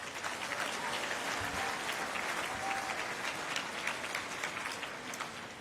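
Sustained applause from an audience at a national finals awards ceremony, a dense, steady patter of many hands clapping at even loudness for several seconds, with no voices rising above it.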